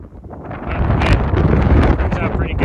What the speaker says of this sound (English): as you can probably hear, it's very windy